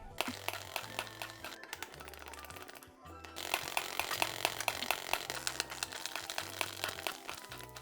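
A gritty mechanical drilling noise from a mining drill in Minecraft with the Create mod runs steadily throughout, with repeated low rhythmic thumps and a brief drop-out near the middle before it resumes.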